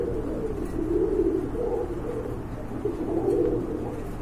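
A pair of Black Nun pigeons coos steadily and close by, with low, soft cooing that swells twice and carries on throughout without any talking.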